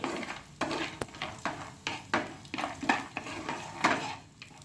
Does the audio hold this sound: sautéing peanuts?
yes